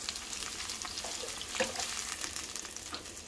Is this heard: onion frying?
yes